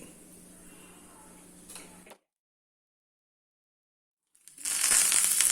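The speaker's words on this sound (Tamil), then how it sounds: "எண்ணெய் விடுறேன். கொஞ்சம் வெந்தயம், ஜீரகம், கொஞ்சம் கடுகு," Fenugreek, cumin and mustard seeds drop into hot oil: a low background hiss, a sudden stretch of silence, then a loud, close, crackling sizzle bursts in near the end.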